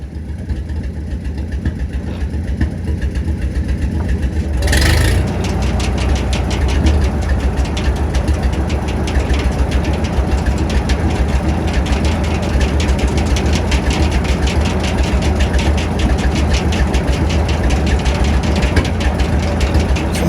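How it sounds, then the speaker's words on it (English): A tractor engine runs a sawmill carriage through its PTO on a cold East Tennessee evening, idling steadily and close with a low, even rumble and a brief louder knock near the five-second mark. "we'll have to put the PTO in gear and run the carriage back and start loading the logs"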